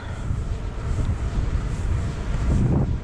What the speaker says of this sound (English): Very strong headwind.